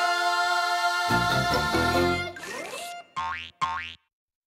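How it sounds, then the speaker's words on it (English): A cartoon-style twangy boing springs out, followed by a sliding wobble and two quick, bright boings that cut off into silence. "When other kids spoke words, he only made this sound. Gerald McBoing, boing"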